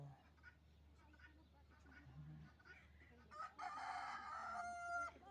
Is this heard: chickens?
yes